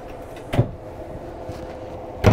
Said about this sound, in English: deep drawers here with the full drawer glides